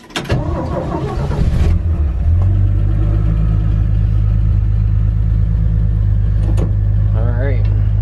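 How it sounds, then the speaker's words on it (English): A 1963 Chevy C10 pickup truck found abandoned in a field runs with a loud, steady low engine rumble as it pulls away, with brief voices and a short squeal near the end. "Finally taking this thing for a drive."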